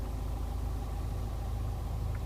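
Steady, close diesel drone from a 2015 Dacia Duster 4x4 with Renault's 1.5 dCi 110 turbo diesel and manual gearbox, running at low speed over rough ground in an old quarry, with a constant low rumble throughout.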